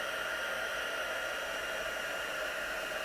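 A heat embossing tool blows steadily and loudly, melting clear embossing powder on a card stamped with a terracotta tile design, its even hiss-like airflow continuous throughout with no talking.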